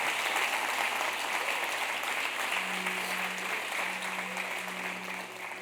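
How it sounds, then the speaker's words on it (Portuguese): A church congregation applauds steadily throughout, a dense sustained wash of clapping that fades slightly toward the end, with a low organ-like tone entering partway through. "você pode aplaudir ao Senhor?"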